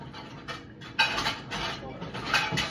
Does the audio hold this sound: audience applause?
no